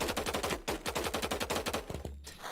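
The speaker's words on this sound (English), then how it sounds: "y'all can hear the the sound of the clicking already, or the harvesting" Rapid-fire mouse clicking harvests crops in the idle clicker dungeon crawler Horripilant, a dense, fast, even train of sharp clicks layered with punchy game effects, loud and continuous, stopping briefly near the end.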